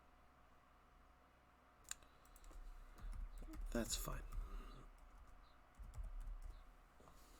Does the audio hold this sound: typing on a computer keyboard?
yes